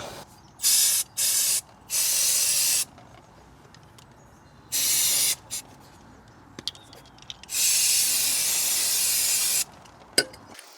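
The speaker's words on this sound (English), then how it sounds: "Now just to clean off with some brake cleaner." Brake cleaner hisses from an aerosol can onto Ford Fiesta Mk6/Mk7 brake discs and pads in several sharp bursts, three short ones and then longer sprays, with quiet gaps between.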